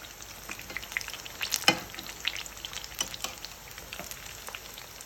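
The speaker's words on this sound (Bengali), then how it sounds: "ফ্রাই হচ্ছে" Sliced eggplant frying in oil in a pan gives a steady, close crackling sizzle with scattered sharper pops and no voices.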